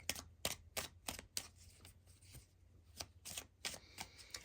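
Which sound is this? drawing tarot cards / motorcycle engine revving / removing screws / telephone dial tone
drawing tarot cards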